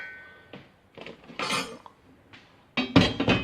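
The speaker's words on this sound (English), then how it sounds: "Next we put our fish stock and our diced tomatoes" Fish stock and diced tomatoes go back into a cooking pot with a few separate clinks and knocks of utensils against the pot, quiet gaps between them and a louder cluster at the end.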